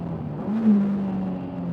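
A 2025 Caterham 340R sports car engine drones steadily while driving, a close, continuous hum that swells briefly mid-clip before settling back.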